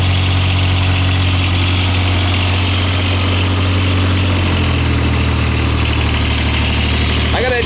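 A John Deere 430 lawn tractor engine runs loud and steady at idle, with a strong low hum and vibration that changes pitch partway through and then settles into a new steady idle.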